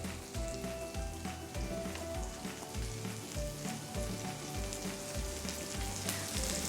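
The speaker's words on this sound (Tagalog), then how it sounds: "The gochujang, it makes the flavor very rich pag once na i-sizzle natin siya sa oil." Gochujang chili paste sizzles steadily in hot oil over a low flame, with a constant crackling fry and rhythmic scraping knocks of a utensil stirring the pan, close and fairly loud, no voices.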